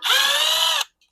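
A power drill spins briefly while removing screws from a Coleman mini bike, a single steady whine of under a second at close range that stops abruptly, with no talk.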